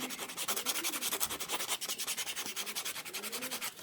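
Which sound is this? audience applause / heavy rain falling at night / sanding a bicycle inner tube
sanding a bicycle inner tube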